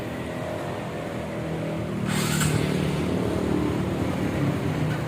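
Restored Honda Supra X 125 motorcycle engine running, a moderate steady engine drone that swells after a brief hiss, heard at some distance without talk.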